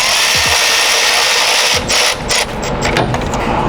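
Power tool whirring in short bursts while valve cover bolts are snugged down on a 2008 Mitsubishi Lancer GTS engine, loud and close, with brief pauses between bolts.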